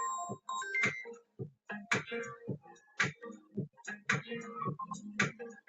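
A mobile phone rings with a melodic ringtone during a live broadcast. Its bright chiming notes repeat in a steady pattern for several seconds, close and clear, with no talk over it.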